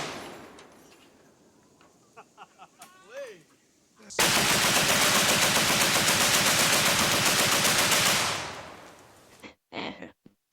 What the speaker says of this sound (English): Then I'm gonna let it rip on the minigun.